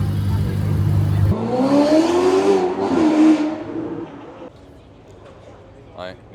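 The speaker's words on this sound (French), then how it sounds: "Les deux belles petites Ferrari." Two Ferrari sports cars rev and accelerate nearby during the Formula 1 Grand Prix weekend in Montréal, a rising engine whine that swells for a few seconds and then fades, with people talking over it.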